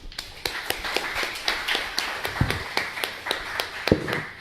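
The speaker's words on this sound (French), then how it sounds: "Merci de l'applaudir." Scattered hand claps from a small group after a speaker's talk, uneven and sparse, with a few sharper claps standing out close by.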